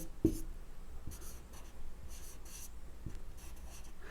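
Faint scratching and tapping of a pen or chalk as a Hindi script sign is written out by hand, with a few short strokes spaced across quiet background.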